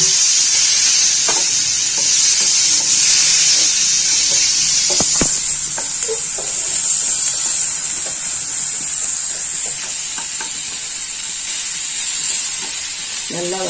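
Onions sautéing with rock salt in a pan for a Kumbakonam-style kadapa, giving a steady close sizzling hiss with occasional light stirring clicks throughout.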